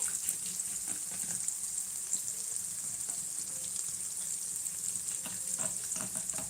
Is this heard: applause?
no